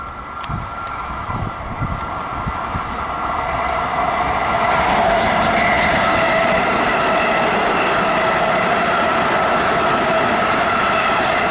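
A Long Island Rail Road train, number 7935 from Ronkonkoma, rumbles past close by with a loud, building roar, rattling wheels and a sustained metallic hum.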